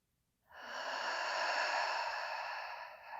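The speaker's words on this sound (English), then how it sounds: "inhaling, open the mouth, exhale through the mouth" Exhaling through an open mouth during restorative yoga, one long, close, breathy outbreath lasting nearly three seconds, alone in a quiet room.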